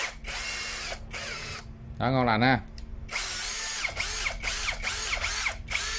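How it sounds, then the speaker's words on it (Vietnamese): A cordless drill with a 13 mm chuck, 2000 rpm top speed, three functions and 2 Ah batteries whirs in loud bursts, rising and falling in pitch with short pauses, while someone speaks briefly. "Đầu kẹp 13 ly, tốc con này quy 2000 vòng phút nha."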